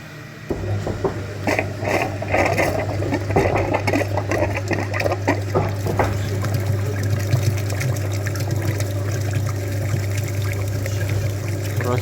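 A cooling system flushing machine pushes liquid through the heater radiator of a Hyundai Sonata YF, making gurgling, trickling water over a steady low pump hum, close and continuous.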